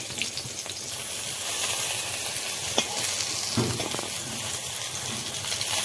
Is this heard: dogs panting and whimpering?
no